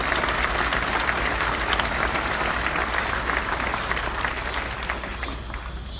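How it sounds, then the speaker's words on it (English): An audience at a grand opening applauds a construction team, with dense, continuous clapping from a sizeable crowd that stays loud and even throughout, fading slightly toward the end. "So please give our constructions team a great round of applause."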